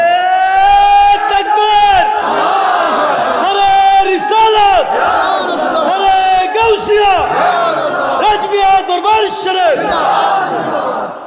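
A large crowd at a religious mahfil gathering chants the takbir response in loud, repeated shouted waves, many voices together rising and falling in rhythmic bursts throughout.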